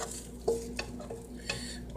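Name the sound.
cheese, peppers, basil and turkey sizzling in pan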